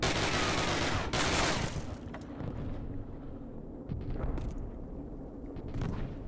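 Gunfire in a Call of Duty game, heard as a loud, dense burst of shooting and blasts at the start that thins into scattered, more distant shots and rumbles.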